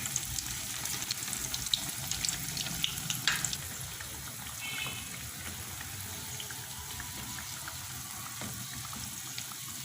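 Lentil dumplings (dahi bhalle) fry in hot oil with a close, steady bubbling sizzle, busier and crackling in the first few seconds, then settling into an even hiss.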